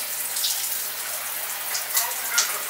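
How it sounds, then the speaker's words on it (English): Shower water runs steadily and loudly in a bathroom during a hair-wash routine, a continuous close hiss with faint splashes and drips, no voices. "Listening to TD Jakes while I'm in the shower."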